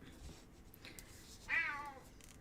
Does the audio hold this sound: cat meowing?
yes